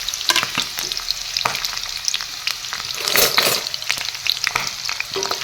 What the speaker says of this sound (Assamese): পিঁয়াজখিনি অলপ ৰংচঙুৱা কৰি লওঁ